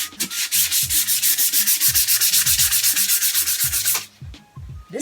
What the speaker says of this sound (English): But yes, on to sanding now.